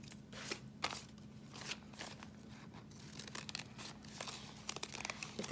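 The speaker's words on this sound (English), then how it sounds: "I'm gonna scoot my scraps over" Paper scraps are pushed across a table, giving soft, close crinkles and rustling swishes in short irregular bursts at low volume, with no talking.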